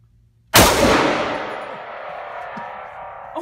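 A single loud gunshot is fired at a target outdoors on an Iowa farm, a sharp close crack followed by a long ringing decay, with a faint clink near the end.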